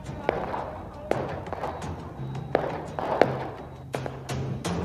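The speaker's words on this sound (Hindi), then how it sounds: "लोगों ने रोशनी के त्योहार में जमकर आतिशबाजी की।" Diwali fireworks and firecrackers bursting at night in the NCR region, several sharp bangs and cracks spaced irregularly over a murmur of crowd voices and background hum.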